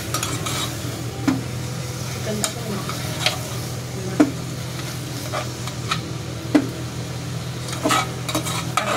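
Onion with ginger and turmeric frying in a pan, a steady close sizzle with intermittent clinks and scrapes of a spoon stirring against the metal.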